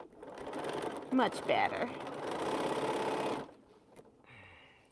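A sewing machine stitches pinned quilt strips in a short, steady whirring run, with a person speaking briefly over the start and the motor stopping before a quiet tail.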